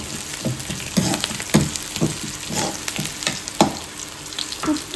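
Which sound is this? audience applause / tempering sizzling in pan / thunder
tempering sizzling in pan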